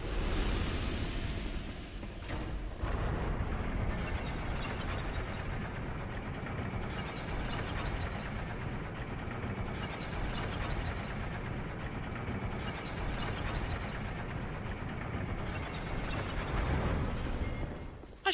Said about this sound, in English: short elevator ride later, and we're back right where we started.